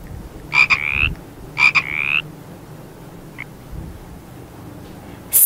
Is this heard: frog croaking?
yes